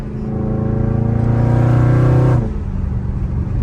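A Dodge Charger Scat Pack V8 revving loud and close below 4,000 RPM, a rising throaty engine roar that holds for about two seconds, then cuts back to a lower rumbling idle.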